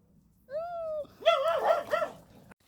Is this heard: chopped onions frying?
no